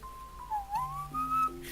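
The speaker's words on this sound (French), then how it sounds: "je t'ai donné un sifflet" A short melodic whistle tune from a video game, a few gliding notes rising and falling, clear and close with a quiet background.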